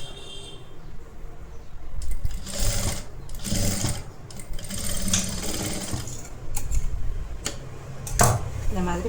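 A sewing machine stitches the folded edge of a collar neck blouse, running in repeated short whirring bursts with small pauses between them, while a person talks over it.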